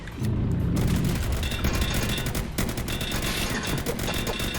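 Gunfire in a Roblox battle game with tanks and cannons: dense, loud bursts of rapid shots and heavy booms run continuously and close, with no pauses.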